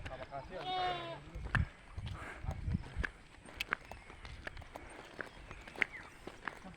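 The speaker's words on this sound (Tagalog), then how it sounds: "Mga kambing sa kalsada." Goats on a steep mountain road give one clear wavering bleat, then footsteps and scattered clopping follow nearby, with people talking.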